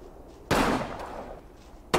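Grenades exploding in the wartime strategy game Combat Mission: a single loud, sudden blast that decays slowly over about a second and a half, followed by a second sharp burst right at the end.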